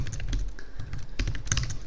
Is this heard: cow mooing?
no